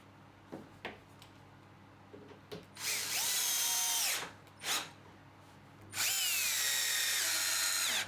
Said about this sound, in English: I can get some glue applied and some screws driven down